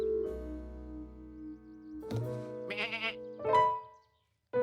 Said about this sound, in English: watching the sheep eat grass